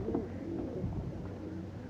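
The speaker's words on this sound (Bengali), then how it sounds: "চোখ কালো পায়রা আমার বাড়িতে একটু কমই আছে" Black-eyed pigeons at a home loft coo in soft, low repeated phrases, close and steady over faint background noise, with no voices.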